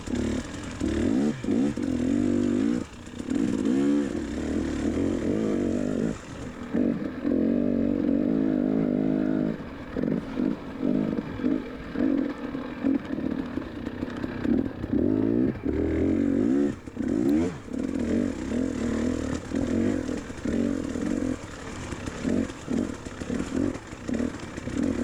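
A dirt bike races through a motocross course at an NMA round, its two-stroke-style engine buzzing and revving in repeated bursts with throttle cuts and surges over about twenty-five seconds, fairly close and loud.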